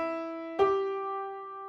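A sustained harmonic tone is joined partway through by a brighter struck note, building a major chord from C by climbing the harmonic series; the chord rings on cleanly and alone.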